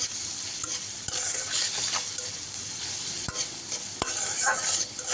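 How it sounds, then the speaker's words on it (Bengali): Spinach with salt and turmeric being stirred in a frying pan, a soft steady sizzle with repeated scraping strokes and a few sharp utensil knocks against the pan. "দিয়ে ভালোভাবে নেড়ে চেড়ে নিচ্ছি"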